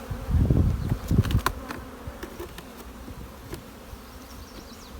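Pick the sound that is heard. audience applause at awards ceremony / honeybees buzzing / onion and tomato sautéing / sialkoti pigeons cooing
honeybees buzzing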